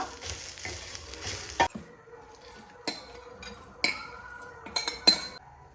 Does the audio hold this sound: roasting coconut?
yes